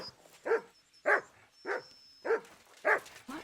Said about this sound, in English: Why are you barking, Mutt?